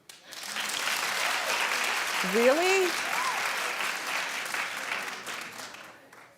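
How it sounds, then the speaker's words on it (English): A studio audience at a talk show claps in a sustained, even burst lasting several seconds, with a brief spoken reaction and a voice rising over the middle of the applause. "Clap if you would agree."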